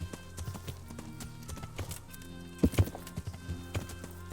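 Horse hooves clip-clopping on ground in Kingdom Come: Deliverance, an uneven run of hoof strikes with a couple of louder thuds, over quiet game ambience.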